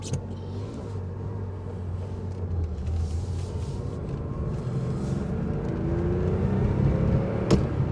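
A 1973 Porsche 911S coupe with a 2.4-litre mechanically injected flat-six warms up, a steady close rumble that slowly builds in loudness and pitch, with a brief sharp click near the end.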